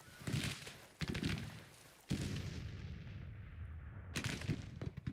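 Cannon fire in the Civil War strategy game Grand Tactician, four loud, heavy booms spaced about a second or two apart, each trailing into a rumbling decay, with no speech.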